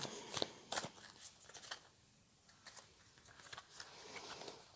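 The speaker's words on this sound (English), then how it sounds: "let's shuffle a little bit more and see what the cards have to say" Tarot cards are shuffled close up, giving soft irregular riffling and flicking with a quiet pause midway, faint and with no talking.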